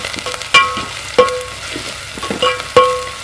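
Green chillies sizzle in a hot pan while a metal spatula stirs them, giving a steady frying hiss broken by several sharp clinks and scrapes against the pan, loud and close.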